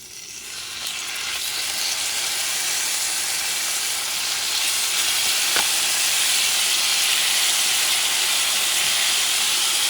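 Chuck steak fries in a preheated pan with a loud, steady sizzle that hisses without a break for the whole stretch. The crackle builds slightly in the first second and then holds even and close, with no voices over it.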